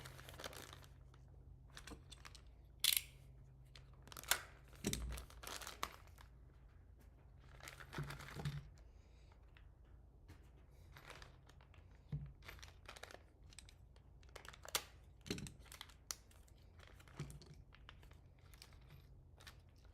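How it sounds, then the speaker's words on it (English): Plastic parts bags crinkling and rustling while building a Tekno EB410.2 RC car, scattered soft crackles and handling noises close by, quiet, with no talking. "Lots of plastic bags used here."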